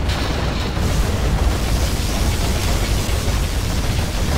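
The particle cannon fires in the USA faction of C&C Generals Zero Hour (Anarchy mod), a loud continuous roaring blast of dense noise that holds steady for several seconds without a break.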